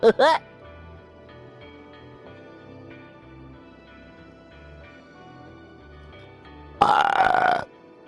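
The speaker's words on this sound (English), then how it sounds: "We got an echo burp there." A burp with a heavy echo rings out near the start and again near the end of a Cities Skylines stream. Both bursts are loud over a steady bed of game music.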